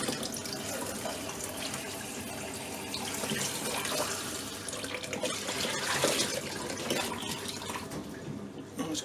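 Water draining out of an Indesit washer dryer under repair, a continuous splashing, trickling rush that swells toward the middle and stays fairly loud and close throughout.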